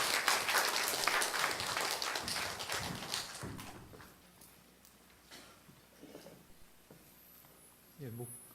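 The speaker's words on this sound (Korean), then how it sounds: "우리 나오실 때 우리 박수로 열어주시면 되겠습니다" Congregation applause filling a church hall in Cheorwon to welcome the pastor to the pulpit, loud dense clapping for about four seconds that then thins and fades, with a few scattered claps near the end.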